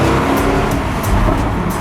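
A Jaguar XKR-S sports car engine gives a loud, continuous throaty rumble, a close and steady drone of exhaust and engine noise with no voices over it.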